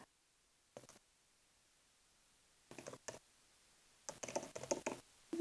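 Short bursts of quiet keystrokes on a computer keyboard while an email address is entered, separated by pauses, with a final louder flurry of clicks near the end.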